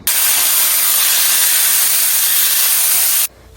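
Seasoned roast with salt and pepper searing in hot oil, a loud, steady sizzling hiss that holds for about three seconds and then cuts off abruptly.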